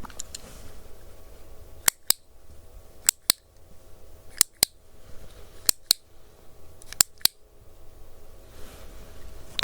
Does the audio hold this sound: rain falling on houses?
no